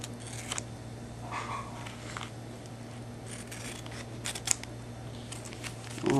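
Scissors trimming excess tape and paper around the edge of a paper craft box, heard as faint, scattered snips and rustles at close range, with a louder handling sound at the end.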